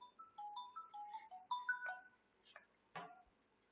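A mobile phone ringtone chimes in a classroom during a lecture: a quick, bright melodic run of tones, fairly soft and unaccompanied, ending with a couple of sharper clicks.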